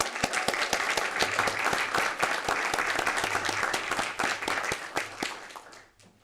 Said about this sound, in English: So give a round of applause for Cynthia.